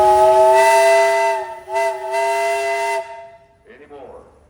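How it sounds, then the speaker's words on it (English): A steam traction engine's whistle blows one loud, steady, hissing chord for about three seconds with a brief dip partway through, then it cuts off and a faint hiss trails away. "you got a whistle up there."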